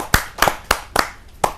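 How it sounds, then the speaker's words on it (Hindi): Sparse hand claps at a Hindi kavi sammelan poetry gathering, greeting poet Kapil Mishra: five or six separate sharp claps in an uneven rhythm, close and fairly loud, with no voices over them. "जोरदार ताली के साथ हम कपिल मिश्रा जी का स्वागत।"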